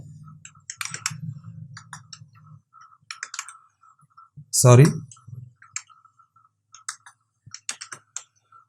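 Close computer keyboard typing as text is entered into an Excel cell, scattered clusters of light clicks and taps with a louder thump midway, while someone speaks briefly in Hindi at the start.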